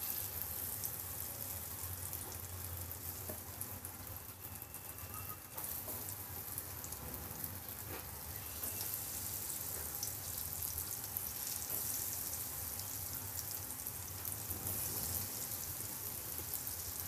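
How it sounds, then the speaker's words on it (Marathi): Spiced, semolina-coated potato slices fry in hot oil, giving a continuous, dense, rain-like sizzle and crackle at an even level throughout. "आता आपण तेलामध्ये फ्राय करूया."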